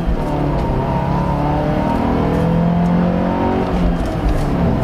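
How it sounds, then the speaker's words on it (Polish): Four-cylinder engine of a BMW 316i E46 revving steadily, a loud continuous drone with rising and falling harmonic tones, heard up close and alone without speech. "Pomimo tego, że mamy tutaj tylko 4 cylindry, no to brzmienie tego silnika jest naprawdę całkiem spoko."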